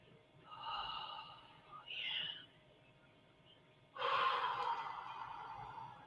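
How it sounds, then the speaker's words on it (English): A slow deep breath drawn in and then released during a guided breathing exercise, soft and close, with a short gasping inhale followed by a longer, louder airy exhale, no talking. "The deep breath also connects us to the source, and the deep breathing."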